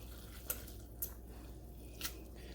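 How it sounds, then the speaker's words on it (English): A utensil stirring shrimp Top Ramen noodles in a pot taps the metal three times at uneven intervals, giving light, close clinks over a quiet, wet background hiss. "So I'm hitting the pot a lot"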